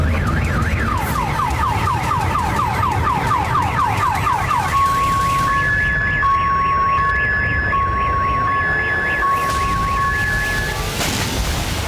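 Parked cars' security alarms wail after an explosion in Crimea: one sweeping, warbling siren shifts into steady alternating tones, loud and close, looping continuously for the whole stretch.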